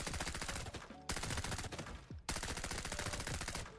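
A budget VSS rifle fires on full auto in Arena Breakout: Infinite, three long rapid bursts of dense, loud, close shots separated by brief gaps.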